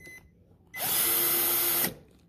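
A power drill bores a hole in the side of a paint bucket: a single loud, high-pitched whine that starts abruptly, holds steady for about a second, then cuts off, close up with no talking.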